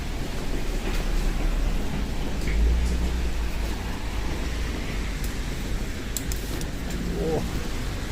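Steady rain in Tokyo near Omotesando station, a constant hiss and patter on the street with a low traffic rumble underneath.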